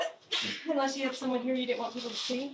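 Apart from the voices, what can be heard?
sneeze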